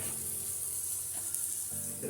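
Spices sauté in a pan for gobhi keema matar, a steady, close sizzle that hisses evenly throughout, with a faint bump of pan noise partway through.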